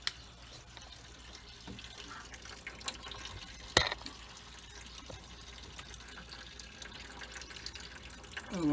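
Coolant flushes out of the engine block of a 2007 Ford Crown Victoria as a steady watery splashing and trickling. The flow runs continuously at moderate level, with one brief sharp knock partway through.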